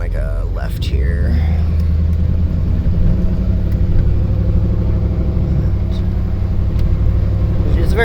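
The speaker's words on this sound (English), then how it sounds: "It's a very smooth truck." A 1977 Chevy crew cab truck driving on a road, a loud, steady low engine rumble with a smooth cruising drone heard from inside the cab, while someone talks over it.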